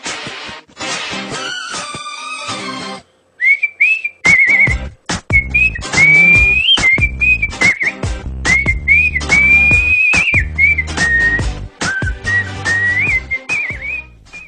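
A person whistles a lively, wavering tune in clear, close, loud phrases, broken by short gaps and a few sharp knocks and clatters.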